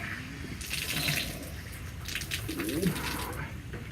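Water poured onto porous soil in a plant pot: a steady trickling and splashing flow runs through the stretch at moderate level, with a voice briefly over it.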